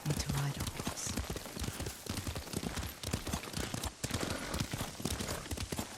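A horse ridden in Ghost of Tsushima makes steady, rhythmic clip-clop hoofbeats at a trot, close and continuous throughout, while characters hold a conversation over the hooves.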